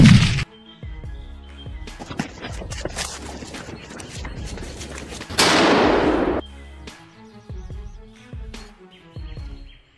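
A sharp hunting gunshot cracks out and echoes away over snow, followed by a sudden burst of noise and scattered knocks and clicks.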